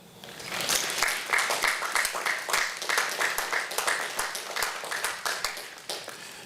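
Sustained applause from an audience of cadets at a 2021 joint military commissioning ceremony, dense steady clapping with sharp individual claps standing out, filling the hall throughout.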